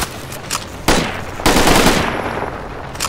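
Bursts of rapid gunfire from a weapon in the video game DeathGarden: BloodHarvest, loud and close, with two sharp volleys over a constant rattling background.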